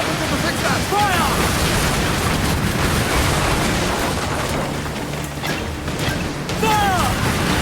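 Ship cannons firing in the Assassin's Creed Black Flag video game, rough booming blasts over a dense, loud battle din, with a voice talking over the noise.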